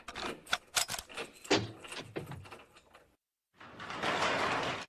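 Several door locks snap shut one after another in a cartoon, a quick burst of sharp metallic clicks and clacks, then a brief silence before a steady rattling, sliding mechanical noise.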